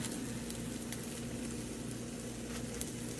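Scrambled eggs sizzle steadily in a frying pan at breakfast, a continuous close crackle with faint pops and no talking.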